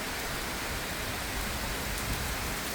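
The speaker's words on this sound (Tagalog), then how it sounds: "Non-stop ang ulan." Heavy, non-stop rain pours at a Discovery Bay hotel, a dense, even hiss that stays loud and unbroken throughout.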